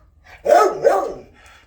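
A found stray dog barks a couple of times up close indoors, two loud yelping barks in quick succession followed by a softer trailing sound.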